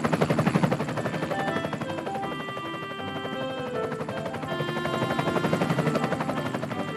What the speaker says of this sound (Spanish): ¡Ey! ¿Qué es ese sonido? Es un helicóptero.